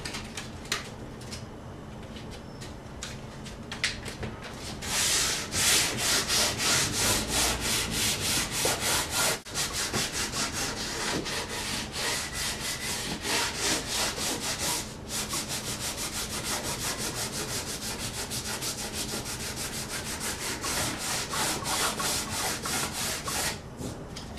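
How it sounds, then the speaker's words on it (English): Sandpaper of 320 grit on a block rubs back and forth along the fingerboard of a 1962 Fender Stratocaster, a steady close rasping stroke rhythm continuing for over twenty seconds without talk. "Now I've sanded the fingerboard"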